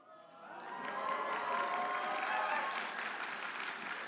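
Audience applause at a PAX East 2025 convention talk, rising quickly into a sustained, dense clapping from a large crowd with some cheering mixed in, holding loud for several seconds.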